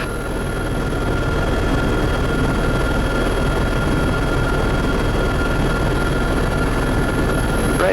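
Tour helicopter flying over the Grand Canyon, a steady loud rotor and turbine drone with constant whine, continuous and close throughout with no talk.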